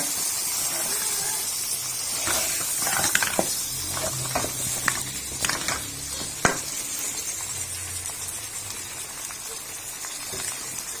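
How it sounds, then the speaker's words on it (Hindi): Beef and potato curry with yogurt and chopped lemon sizzles and fries in a pot, with a steady crackle broken by scraping stirs and clinks of a spoon, close and fairly loud. "अब अच्छे से इसको भून लेंगे"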